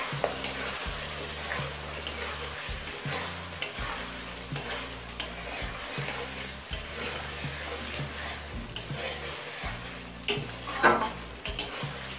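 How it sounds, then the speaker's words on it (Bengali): Mustard-poppy paste and Bhola fish fry in a pan, a soft continuous sizzle broken by repeated rhythmic scrapes and clinks of a spatula stirring against the metal. "সর্ষে পোস্তটা দিয়ে আরও কিছুক্ষণ কষিয়ে নিলাম।"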